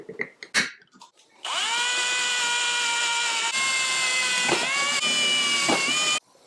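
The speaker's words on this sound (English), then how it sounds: "the first thing I'm going to do is drill my holes into the top of my jar here." A power drill bores holes into the top of a jar for a homemade vacuum leak smoke tester, starting after a few clicks and whirring loud and steady for about five seconds, dipping briefly twice as it bites.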